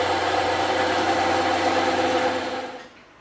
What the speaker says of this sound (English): So we're gonna make these two cuts on the bandsaw.